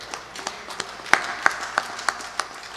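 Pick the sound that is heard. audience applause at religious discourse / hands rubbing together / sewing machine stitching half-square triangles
audience applause at religious discourse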